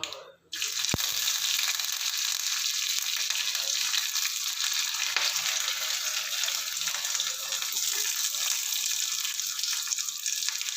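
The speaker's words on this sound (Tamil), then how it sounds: "கடுகு வெடிச்சிருச்சு, இதெல்லாம் போட்டுக்கலாம்." Steady loud sizzling of mustard seeds popping in hot oil, with faint crackles and pops throughout, close up, one sharp click near the start, no talking.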